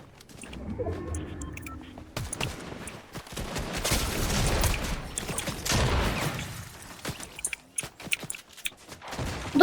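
Enemy gunfire in a Fortnite match crackles in dense bursts of rapid shots, loud and close, mixed with sharp clicks and footsteps.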